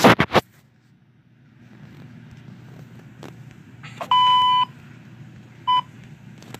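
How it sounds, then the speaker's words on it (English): A short steady electronic beep sounds, followed a moment later by a second brief beep, over a faint low background hum. "here's my censored beep"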